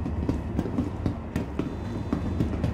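Train arriving at a spaceport in Star Citizen 3.17.3: a faint, steady rolling rumble with regular clickety-clack wheel beats repeating at an even pace, no talk.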